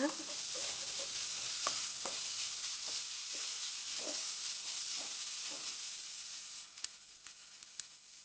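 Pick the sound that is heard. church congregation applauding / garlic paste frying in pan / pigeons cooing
garlic paste frying in pan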